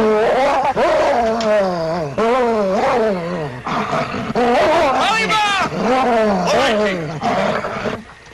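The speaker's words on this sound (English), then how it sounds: "Why were you beating that dog?" A dog in a snowy northern setting gives loud, strained yelps and howls, rising and falling over and over as it is beaten, close by with no pauses.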